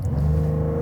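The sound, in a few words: base Porsche 911 engine revving in sport mode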